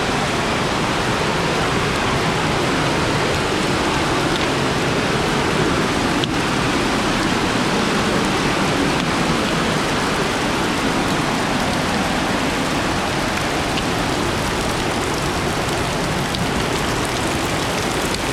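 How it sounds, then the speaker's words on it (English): Heavy rain pours down steadily on a hike along an Oregon waterfall trail, a dense, continuous hiss close around the listener with no pauses. "Getting rained on, poured on."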